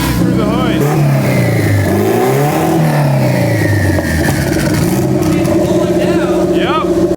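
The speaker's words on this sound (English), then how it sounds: "a little bit of revving and stuff and warming up, it's starting to spool" A turbocharged $800 car's engine revs and spools, loud and close, rising and falling in pitch with a whistling turbo whine over a steady roar, while people talk over it.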